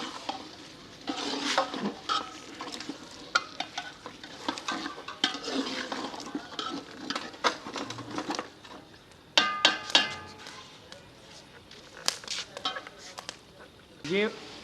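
A spoon scrapes and clatters around inside a metal pot as fried vegetables for pulao are stirred, in irregular bursts with some sizzling underneath.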